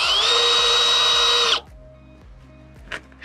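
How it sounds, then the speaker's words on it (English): A power drill runs at a steady high whine for about a second and a half while drilling holes to mount an ELCO electric outboard on a Highfield dinghy, then stops abruptly, leaving quiet ticking and a faint clatter. "who is drilling the holes?"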